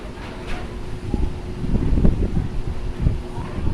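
Gusty wind buffets the microphone with low rumbling bursts, rising and falling over a few seconds.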